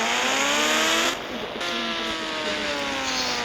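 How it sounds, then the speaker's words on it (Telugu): A motorbike skids in a video game, giving a sustained tire-squeal tone with steady engine whine, loud and continuous with a brief dip partway through. "ఇదైతే బైక్ స్కిడ్ చేస్తుందని చెప్పా కదా"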